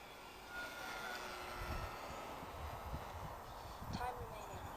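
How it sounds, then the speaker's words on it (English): A model Mitsubishi Zero aeroplane flying after a major rebuild, its engine giving a steady buzzing drone with a faint rising whine, while people talk over it outdoors. "This is very much a motor-on aeroplane to land"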